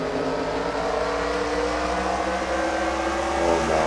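Steady roaring race-truck engine heard from an onboard bumper camera in a truck-series racing video game at Mansfield, a continuous loud drone with tonal harmonics that rise slightly near the end, with no talk.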